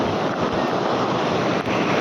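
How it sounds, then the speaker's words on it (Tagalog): Strong surf breaking on a beach at Aureo Beach Resort in La Union, a steady loud wash of crashing waves with wind buffeting the microphone throughout. "Sobrang lakas ng alon mga kaibigan!"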